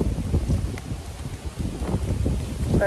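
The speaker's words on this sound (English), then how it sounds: "still very windy," Steady wind buffets the microphone in loud, gusty rumbles that rise and fall throughout.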